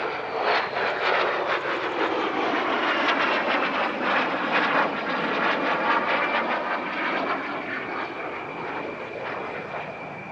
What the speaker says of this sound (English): Vampires were the first jet aircraft to cross the Atlantic